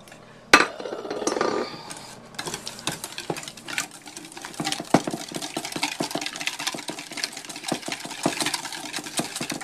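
Cranberry sauce and oil are stirred into mayonnaise in a bowl, giving a steady run of close, wet scraping and clinking spoon strokes after a sharp initial knock, continuing rhythmically with no talking.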